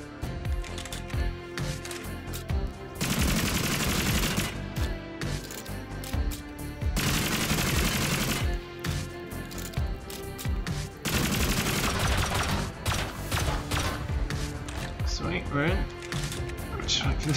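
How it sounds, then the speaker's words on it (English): Explosive ammo fired at sheet metal in the video game Rust: three sustained loud bursts of rapid automatic gunfire with crackling impacts, separated by brief gaps, while a voice talks throughout. "Got my explosive ammo. Just smash through this."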